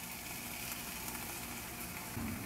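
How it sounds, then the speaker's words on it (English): Bacon sizzles in a hot pan as a steady, dense hiss that stays even and fairly quiet throughout, with no talking. "Whenever you see if you hear that sizzle, you know your pan is hot enough."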